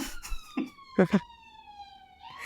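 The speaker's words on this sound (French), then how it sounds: "C'était une ambulance." Emergency siren wailing in a city street, a steady high falling tone running through the whole passage as the vehicle passes, with a few brief voices and street noises underneath.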